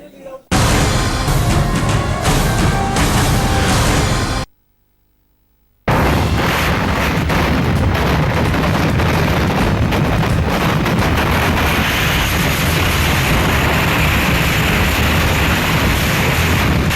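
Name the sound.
firework stockpile explosion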